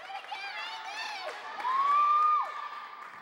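Crowd at an indoor volleyball match between Sheboygan and Fox Valley cheering and whooping, a swelling burst of voices close by that builds for a second before fading back.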